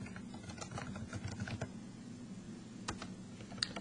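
Someone types on a computer keyboard in a burst of quick, quiet clicking keystrokes, then a couple of isolated taps after a short pause.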